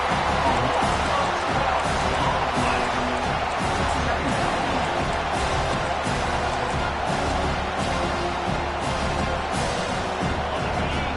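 A stadium crowd in the NCAA 25 college football video game keeps up a dense, continuous roar throughout, loud and steady, with announcer commentary running over it.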